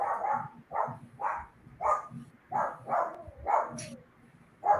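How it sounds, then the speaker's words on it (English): A dog barking at a house, a string of about nine moderately loud barks spaced roughly half a second apart, heard alone without speech. "I think everybody hears the bark."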